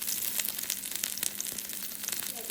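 Pieces of fish fry in hot oil in a pan, a continuous crackling sizzle with scattered sharp pops and a little stirring, close and fairly quiet with no talk.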